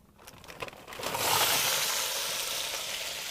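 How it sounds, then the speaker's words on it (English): Shrimp sizzle loudly and steadily in a hot pan, a bright crackling hiss that swells after a second of quieter clinks and stays strong. "when you hear that sizzling, that's a good thing"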